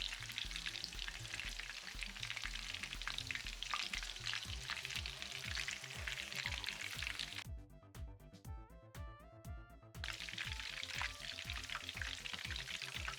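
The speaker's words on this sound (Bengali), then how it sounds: "এভাবে করে আমরা ভেজে নেব" Homestyle chicken pieces frying in oil give a steady, close crackling sizzle with stirring, briefly interrupted midway by a few seconds of tonal, music-like notes before the frying resumes.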